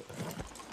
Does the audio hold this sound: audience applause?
no